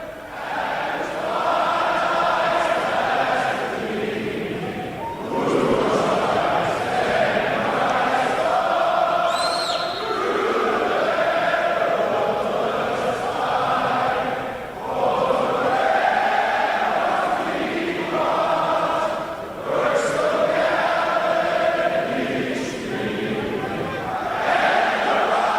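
A stadium crowd sings the national anthem in full voice after the solo singer lowers her microphone, a dense, sustained mass of voices filling the space with swelling phrases and brief dips between lines.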